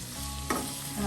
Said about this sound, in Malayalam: എല്ലാം കൂടെ ഒന്ന് മിക്സ് ചെയ്ത്